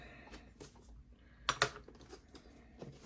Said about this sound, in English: X-Acto knife to the tape right here.